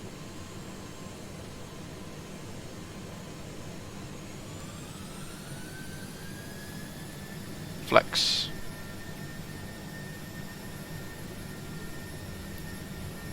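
Airbus A330-300 jet engines in Microsoft Flight Simulator 2020 spool up for a heavy departure, a steady roar with a whine that climbs in pitch and then holds, while a voice briefly speaks over it.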